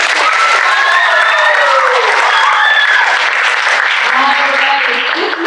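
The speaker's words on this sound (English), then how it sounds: "round of applause for the blue group." A crowd at a junior summer camp presentation applauds the blue group: loud, dense, sustained clapping with cheering voices mixed in, fading slightly toward the end.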